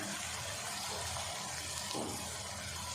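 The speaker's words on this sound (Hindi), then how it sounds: "थोड़ा सा मैंने इसमें पानी डाल दिया" Water poured into a cooking pot of beef paya curry, a steady gushing, splashing stream that runs without a break.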